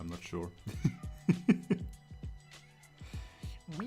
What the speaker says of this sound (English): Maybe you can hear my cat in the background